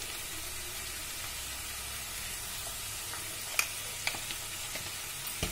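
Tomato pieces with salt and tamarind fry in hot oil for tomato pickle, a soft, even hiss with a few sharp pops and spatters toward the end.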